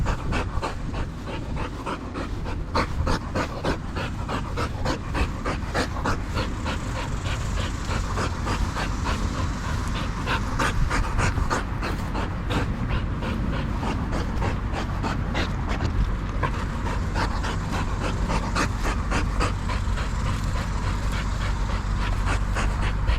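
A tired pit bull panting hard after playing frisbee, quick steady breaths repeating close up for over twenty seconds with no other sound.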